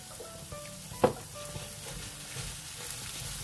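Carrot and cabbage frying in a wok for village-style nasi goreng belacan, a steady low sizzle and stir with one brief sharp clank of a utensil near the start, fairly faint and close.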